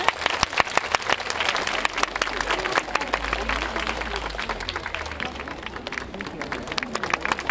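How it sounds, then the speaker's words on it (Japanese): Hearty applause from a crowd at a girls' high school autumn concert, dense and continuous clapping with scattered sharp claps and some background crowd murmur throughout. "ゆりなちゃんに大きな拍手をお願いします。"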